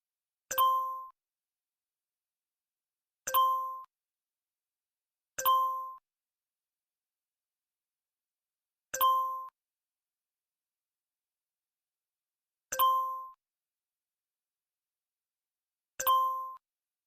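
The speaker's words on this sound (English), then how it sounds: "Looks like I got a text message from someone." A phone text-message notification sounds as a short, clean ding, repeated six times at irregular intervals of a few seconds. Each chime is isolated against silence.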